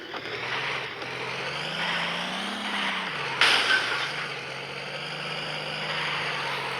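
Lada Niva driving in the BeamNG driving game, a steady engine drone running throughout at moderate level, with a brief sharp knock partway through and the pitch rising and dipping as the car moves.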